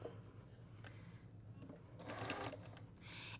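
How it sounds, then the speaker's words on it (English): Sewing machine stitching a quilt block with an open-toe foot, short bursts of rapid mechanical whirring and clatter, faint and close. "I'm gonna try to sew as accurate as I can right on that line."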